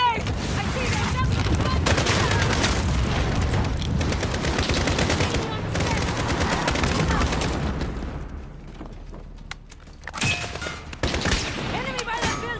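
Heavy gunfire in the Call of Duty Modern Warfare video game comes in loud, dense bursts of rapid shots and booms with a brief lull near the end, while voices shout over the battle.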